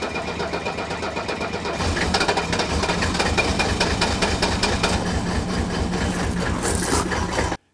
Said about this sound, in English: Now you'll notice that the engine starts up and runs rough here, but it starts pretty quickly without a lot of glowing.